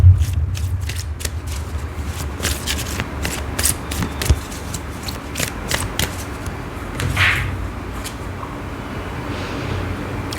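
Tarot cards are shuffled by hand during a reading, producing close, crisp riffling clicks and soft slaps in irregular bursts throughout, with no talking.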